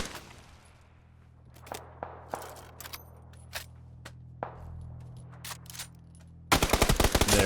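Suppressed MK12 rifle fire in PUBG, with scattered single shots spread over several seconds and then a dense, rapid burst of fire at the end, loud and close.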